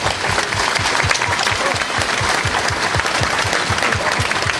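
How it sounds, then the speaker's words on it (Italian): An audience at an award ceremony for a magician applauds at length, a continuous loud roar of clapping from a large crowd with a faint rhythmic low thumping beneath it and no talk. "un pubblico straordinario che sta applaudendo all'infinito"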